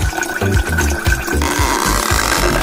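Soda spilling during a cartoon food-layering challenge: a continuous gushing, gurgling pour of liquid, loud and close, with rhythmic splashing pulses and a rising fizzy hiss toward the end.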